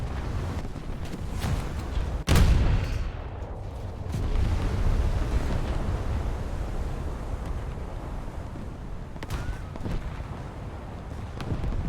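Warship secondary guns fire in a naval battle video game, with a sharp loud boom near the start, rumbling low blasts and wind-like noise after it, and fainter shots later.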